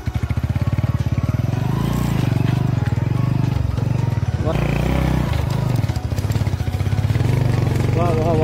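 Vehicle engine labouring up a steep mountain road near a hill temple at Palacode, a loud, close, throbbing revving roar that runs continuously and shifts pitch as it strains uphill.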